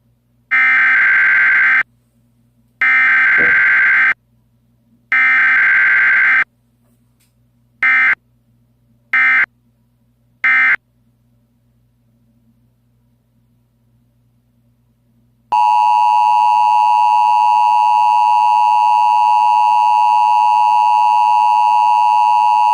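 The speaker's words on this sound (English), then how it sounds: "So the government is playing a new message on the emergency alert system." Emergency alert system broadcast tones: six loud, steady electronic beeps in an even on-off pattern, the last three shorter, then after a pause a continuous two-tone alert signal that holds to the end with no speech.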